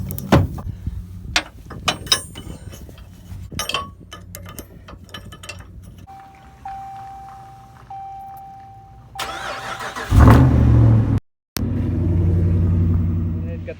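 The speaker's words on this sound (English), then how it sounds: "start the truck, warm it up" A truck engine cranks and catches, then settles into a loud, steady idle as it warms up. Clicks and mechanical rattles come first, and a voice talks near the start.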